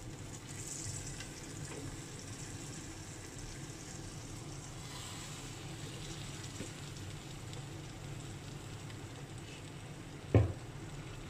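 Fish head pieces fry in masala with curry leaves in a pan, giving an even, low sizzle throughout, with one short knock of a utensil on the pan near the end.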